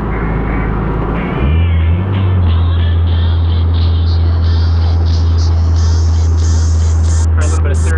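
A Mazdaspeed 3 engine pulls hard under acceleration, a loud droning note that climbs steadily in pitch over several seconds, heard from inside the car.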